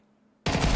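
An AK rifle fires in a Counter-Strike match, opening abruptly after near-silence into a loud, sustained burst of rapid automatic gunfire that fills the rest of the moment.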